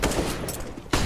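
Gunfire in a Counter-Strike match cracks out in dense, rapid bursts at a bomb site, loud and close, with a short pause before another sharp volley.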